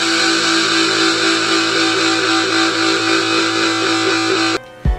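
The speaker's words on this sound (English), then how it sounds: "Lastly, there's fuzz. This is the heaviest of all the overdrives," Heavily saturated fuzz overdrive guitar tone, the heaviest style of overdrive, sustains loud and thick with dense harmonics for several seconds before cutting off abruptly near the end.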